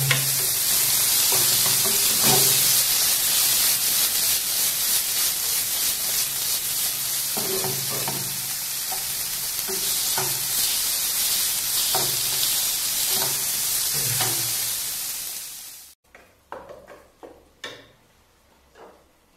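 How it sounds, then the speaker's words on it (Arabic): Risotto sizzling loudly in a pan as stock is added, a dense continuous hiss and crackle with repeated stirring scrapes, then the sizzle cuts off abruptly, leaving sparse clinks and spoon knocks. "So now we add again the stock."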